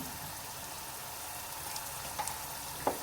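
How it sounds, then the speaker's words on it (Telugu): Ginger garlic paste fries in oil with a soft, steady, faint sizzle, broken by a couple of small pops or light clicks toward the end. "ఈ అల్లం వెల్లుల్లి పేస్ట్ కూడా ఆయిల్లో మంచిగా వేపుకోవాలి"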